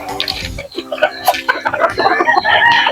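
Backyard chickens cluck busily at feeding time outdoors, a near, continuous chatter of overlapping clucks and squawks with some bright calls, no talking.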